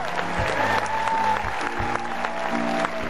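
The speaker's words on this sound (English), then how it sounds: "Please give a big round of applause for Alcides Pereira." An audience on a Greek cruise applauds the hotel director, a loud burst of clapping from many hands that holds steady and near for the whole stretch.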